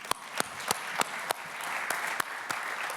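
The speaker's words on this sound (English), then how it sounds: "please, another round of applause for them" Audience applause in a hall during closing remarks, a steady wash of clapping with a few loud, near claps spaced roughly evenly on top, continuing without pause.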